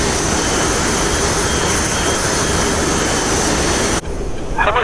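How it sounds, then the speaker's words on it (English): Loud, steady roar of a French ATAR jet engine in the DCS World flight game, a dense broadband rush that fills the clip before cutting sharply to a quieter hiss near the end, where a brief voice-like sound appears. "It's a tiny little eco-saver ATAR French engine."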